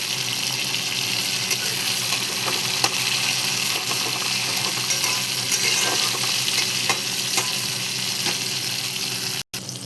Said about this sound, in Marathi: आपण टमाटर कट करून घेतलेले ते टाकून घेतो बघा